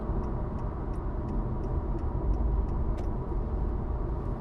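Steady road and tire roar fills the cabin of a 2019 Honda Insight on the move, a constant broadband hum with faint ticking over it and no talking.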